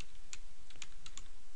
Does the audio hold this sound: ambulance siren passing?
no